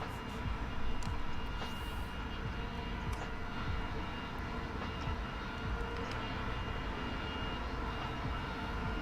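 Lightning jet fighter in War Thunder roaring steadily at supersonic speed with afterburner, a loud, continuous broadband engine rush with no talking.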